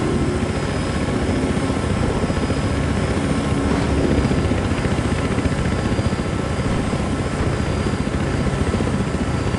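Helicopter flying in the video game Battlefield Hardline, a loud, continuous rotor thump and engine drone holding steady and close throughout, with no talk.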